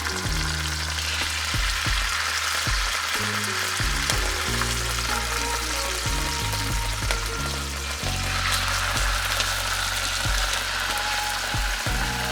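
Glazed wahoo, tuna or king mackerel sears in hot oil with a steady, close sizzle and crackle throughout, no talking, and soft music underneath.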